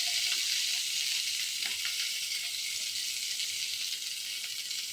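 Carrots fry in mustard oil in a kadai, giving a steady, even sizzle and hiss throughout with a few faint stirring scrapes and no voices.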